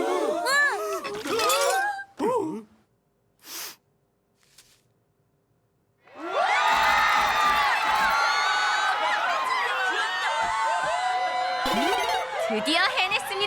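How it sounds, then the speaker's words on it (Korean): A talk-show studio audience in a cartoon bursts into loud, sustained cheering and shouting after a brief clatter, following a few seconds of character dialogue and near silence. "관객들도 뜨겁게 환호하네요"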